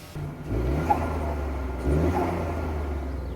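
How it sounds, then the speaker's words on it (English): A 2021 Ford Bronco Sport's turbocharged engine revs up twice in quick succession, loud and close, with a steady droning rumble underneath. "Let's see if we can hear that turbo just a little bit."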